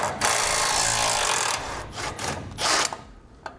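Bump stop bolts backed out with a 16 mm socket on a power tool during a suspension install on a 2016 Ram, a loud steady whirring burst followed by shorter bursts and a few clicks, close by, no talking.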